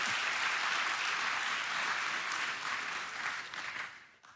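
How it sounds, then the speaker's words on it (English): Audience applause for the finalists at a South Laurel awards event, a steady, dense crowd clapping throughout that thins and fades toward the end. "Let's give them a round of applause."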